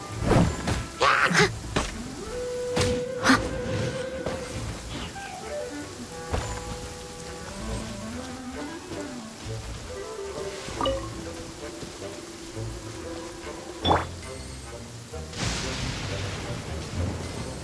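Rain and a thunderstorm in the Genshin Impact video game on PC, heard as soft, steady rain with scattered low thunder thumps, fairly quiet and mixed with tonal game sounds.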